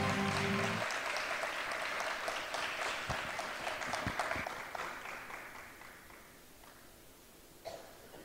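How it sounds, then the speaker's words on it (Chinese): An audience applauds to welcome a guest on stage at a talk event, clapping loud at first then gradually fading, with a cough or two near the end. "热情掌声邀请我们的余光中先生到场。"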